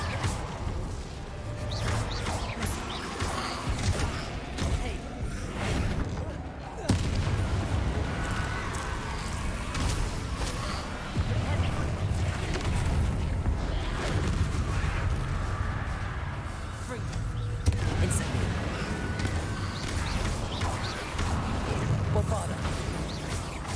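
Spell blasts in Hogwarts Legacy, including the Incendio fire spell, as a continuous run of loud booming impacts and crackling bursts, with a few sharp hits along the way.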